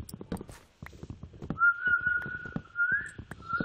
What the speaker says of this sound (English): I like whistling too.